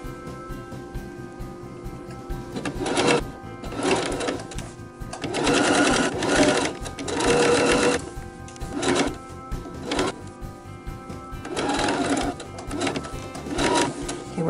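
A sewing machine stitches binding onto a tote bag, running in several loud bursts of rapid needle clatter separated by short pauses, close up with no talking.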